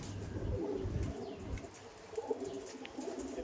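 Soft, low cooing from Fulshira Pilanka flying pigeons at a loft in Behala, a few quiet rolling coos with faint chirps and a light rustle in the background.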